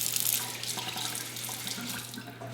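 Water runs steadily from a kitchen sink faucet in a DIY-remodeled kitchen, a continuous close hiss and splash with no speech.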